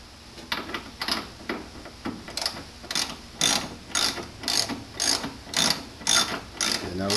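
A hand ratchet tightens bolts on the intake bracket of a 2007 Ram truck during a K&N intake install, its sharp pawl clicks coming in a quick, even rhythm of repeated strokes, close and loud.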